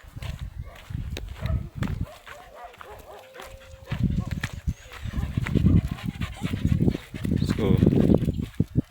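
Village dogs barking in bursts outdoors, loud and close, mixed with rustling, footsteps and other farm noise, with a voice talking over parts of it.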